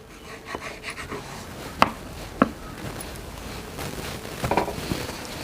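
A knife cuts rolled dough in half for cheese rolls, with a few sharp close taps of the blade on the board, two clear strikes then a cluster of softer ones, fairly quiet and without speech.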